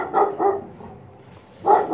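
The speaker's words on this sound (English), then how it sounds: "And there's a lot of dogs." Several dog barks in a hilly, mountainous area, two quick barks, a pause, then another bark, moderately close.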